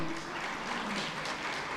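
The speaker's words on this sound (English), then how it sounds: "Put your hands together as she comes forward" A conference audience breaks into steady, even applause as a speaker comes forward at a panel event, a dense wash of clapping with no single claps standing out.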